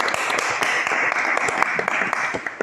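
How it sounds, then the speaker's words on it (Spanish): An audience bursts into applause, many hands clapping in a brisk, irregular patter that stays fairly loud and sustained throughout, with faint voices mixed in. "Un aplauso, ¿no?"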